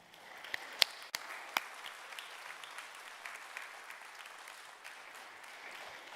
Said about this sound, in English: could you please rise and let's give them a round of applause